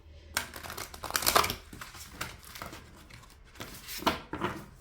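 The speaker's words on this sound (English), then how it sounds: "I'm just going to shuffle a bit more with these cards, so bear with me as I'm shuffling." A deck of cards being shuffled during a card reading, giving quick crinkly riffling bursts that come and go in two main clusters, close and fairly quiet.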